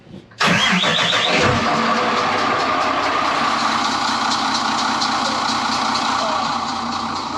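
An engine cranks briefly, then catches and roars to life, settling into a loud, steady idle close by.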